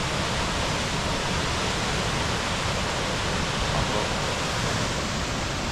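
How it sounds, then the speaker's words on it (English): Wangi Falls thunders down after the wet season, a dense, loud, unbroken roar of falling water with no talk. "what you're hearing and seeing there is hundreds and hundreds of tons of water falling down off Wangi Falls"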